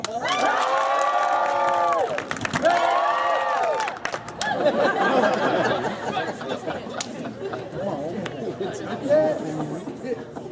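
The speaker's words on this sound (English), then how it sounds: "you burst into applause" Crowd at a marching band and colorguard Friday event, a loud sustained vocal burst opening, then cheering, shouting and chatter with scattered clapping, voices mingling throughout.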